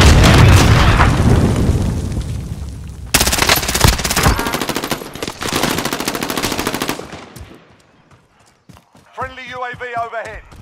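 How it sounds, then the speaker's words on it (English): Gunfire and explosions in Modern Warfare Warzone: dense rapid automatic fire and heavy blasts that fade toward the end, where a player's voice comes in briefly. "I saw the gunfire"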